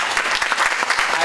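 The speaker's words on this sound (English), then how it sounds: "yeah, they deserve an applause." Audience applause at a public talk on Malaysia attended by many young journalists, a dense steady crowd clapping that fills the short stretch at even loudness.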